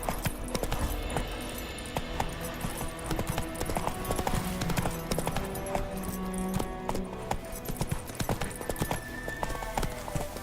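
A horse gallops in The Witcher 3 video game, its rapid hoofbeats clip-clopping in a steady driving rhythm up close, with occasional snorts and a faint whinny over game ambience.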